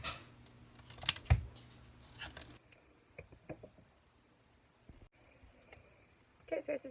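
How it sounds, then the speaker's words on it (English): Scissors snip through paper with a few sharp crisp cuts near the start, followed by quieter scattered clicks and rustles while someone speaks softly. "I'm going to go ahead and fussy cut these with my scissors"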